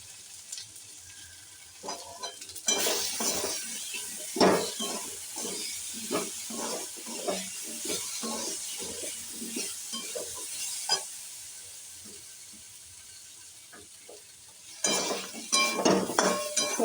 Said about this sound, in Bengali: মশলা প্রায় ভাজা হয়ে গেছে